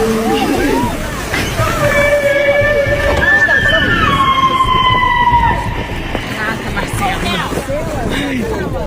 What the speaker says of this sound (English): Just listen to the whale sing as this lady gets up close and personal